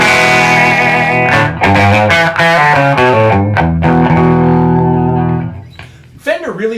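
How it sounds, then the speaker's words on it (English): A 1964 Gibson ES-335 electric guitar with factory Bigsby and nickel hardware plays through a vintage Fender tube amp, giving sustained, slightly driven chords and single notes, loud and close, with a short bent note at the end. "I'm playing through a 1964 ES-335 with factory original Bigsby"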